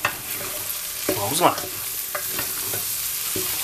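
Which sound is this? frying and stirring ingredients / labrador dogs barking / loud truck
frying and stirring ingredients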